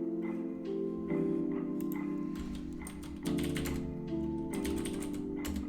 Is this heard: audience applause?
no